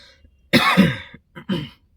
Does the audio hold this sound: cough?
yes